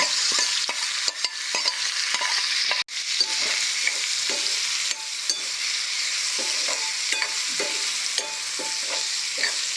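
Cumin seeds, asafoetida and dried sliced onion fry in a spoonful of oil with a constant bright sizzle, while a spoon taps and stirs the pan in quick, light strokes.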